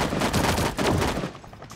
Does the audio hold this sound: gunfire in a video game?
yes